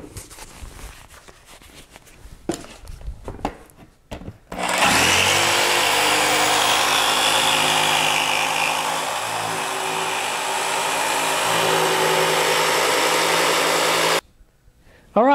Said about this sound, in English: now we have it cut out in the jigsaw